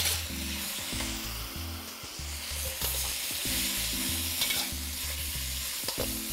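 Beef sizzles and crackles loudly as it flash-fries in a hot wok, with repeated scraping and clanking of a utensil stirring through it.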